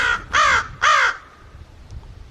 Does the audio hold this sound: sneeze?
no